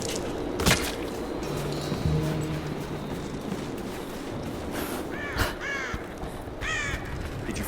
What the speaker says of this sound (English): Did you find the bird? Found your bird, finally.